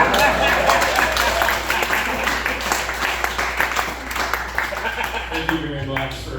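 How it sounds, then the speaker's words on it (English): An audience at a comedy gig claps loudly at first, and the applause thins and fades as a voice speaks over it near the end. "Thank you very much for clapping."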